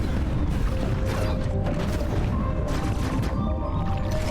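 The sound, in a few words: missiles fired and exploding in video game Metroid Dread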